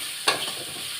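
Food being stirred and mixed in a frying pan while cooking lunch, with one short scraping stir over a steady soft sizzle, close and fairly quiet, no talking.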